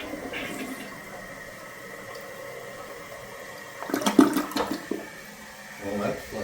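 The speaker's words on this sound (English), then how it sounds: "So the toilet is not flushing." A household toilet flushes with a rushing, gurgling surge of water midway, after quiet room tone; the line is partly blocked by a sewer stoppage, so the drain struggles.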